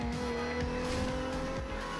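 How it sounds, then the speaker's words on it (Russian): A stock Toyota Supra drifts in the video game Forza Horizon 2, its tires squealing in a steady, sustained whine over constant engine drone with no talk. "Стоковая Супра, она когда шлифует, она просто поет."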